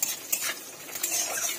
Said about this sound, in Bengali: এর মধ্যে দিয়ে দেবো গোটা গরম মশলা, কাজু কিশমিশ দিয়ে হালকা আমি একদম জাস্ট নেড়ে নেবো